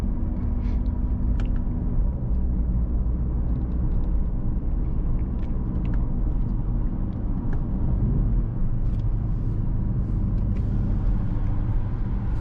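A 2024 Mercedes-AMG GLC 63 S cruises at night, giving a steady low road and engine rumble heard from inside the cabin, continuous with no talk.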